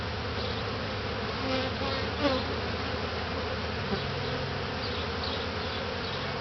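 Honey bees from a top bar hive hum in a dense, continuous buzz during a honey harvest, close and steady for several seconds with a few louder passes near the ear.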